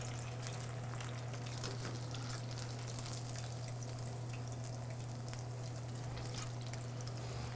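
Battered chicken for General Tso's deep-fries in hot oil with a steady, dense sizzle and bubbling crackle that holds evenly throughout, under a constant low hum.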